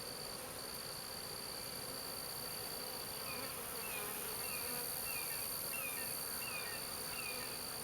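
A continuous dense hum of many honey bees buzzing close by in a nuc hive, steady and unbroken for the whole stretch.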